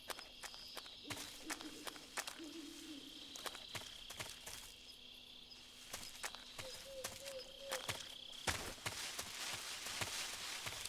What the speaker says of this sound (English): Did I just hear a horse? In the jungle? Jungle horse?